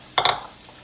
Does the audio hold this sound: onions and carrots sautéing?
yes